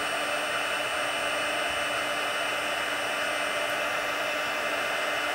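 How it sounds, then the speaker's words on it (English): A heat embossing tool blows very hot air over embossing powder on a stamped card, giving a loud, steady whirring roar that stays even and unbroken from start to finish, with no talking. "So you really need a heat tool. This gets super, super-duper hot."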